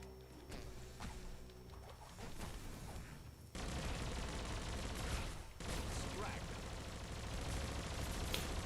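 A disc launcher in Biomutant fires in rapid, dense volleys that swell into a loud continuous barrage after a quieter opening, with steady background game sound.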